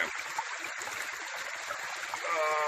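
A small rural creek that feeds a household water supply runs close by, a steady bright babbling and trickling flow, with a faint high tone rising near the end.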